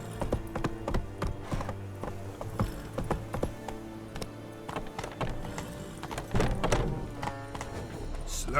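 Hooves clip-clop at a steady walking rhythm from a horse in The Witcher 3 video game, close and continuous over a constant musical and ambient background, with a brief louder patch of movement near the end.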